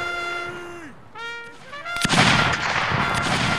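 Musket volleys crack in a Napoleonic-era battle game, sharp gunfire bursting in after a brief tonal horn-like passage and continuing as dense, loud noise to the end.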